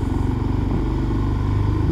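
A motorcycle cruises at a relaxed pace along a road in Japan in spring. Its engine drones loud and close with a steady pulsing throb for the full two seconds, and no one speaks.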